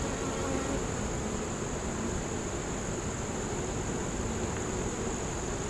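Honey bees crowd a hive frame in a small colony, a steady close buzzing drone that runs unbroken and fairly loud throughout, with no voices.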